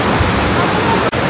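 Grojogan Sewu waterfall, in a forested nature park at the foot of Mount Lawu in Tawangmangu, pours with a loud, constant broadband roar, briefly interrupted by a short dropout near the end.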